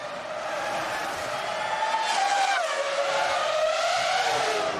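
A Formula 1 car from the 2004 season spins out, its engine note sweeping and wavering through a sustained whine, with tire squeal and skidding building in the middle and carrying on loudly to the end.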